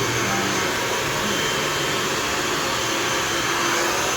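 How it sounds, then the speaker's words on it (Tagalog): A hair blow dryer runs close and loud, a continuous steady airy whoosh and motor hum with no pauses throughout. "Ganito mag-blower guys, mga beginning guys."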